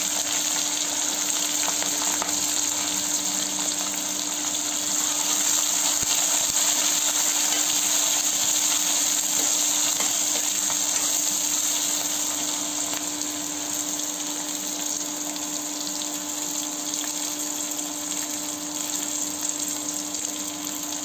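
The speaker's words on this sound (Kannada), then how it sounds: "ಹಸಿಮೆಣಸಿನಕಾಯಿ ಎಣ್ಣೆಯಲ್ಲಿ ಚೆನ್ನಾಗಿ ಫ್ರೈ ಆಗಬೇಕು." Green chillies frying in oil make a continuous, loud, close hiss and sizzle that holds steady for the whole stretch, with no talking.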